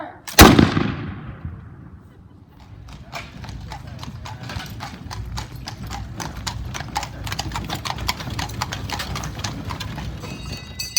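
A single loud musket volley cracks out at a Williamsburg historical reenactment, decaying over a second or two, followed by a long stretch of rhythmic horse hoof clopping nearby with voices in the background.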